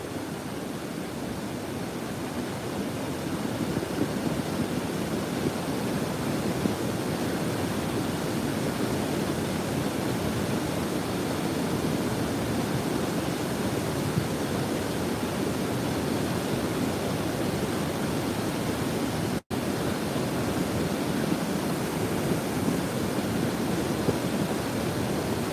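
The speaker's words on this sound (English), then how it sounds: "Hopefully the sound of the water is drowning out the sound of the wind." Rushing water at Great Falls, Maryland, on a winter day outdoors: a dense, steady roar of falling river water fills the scene continuously, with wind buffeting mixed in and no talking.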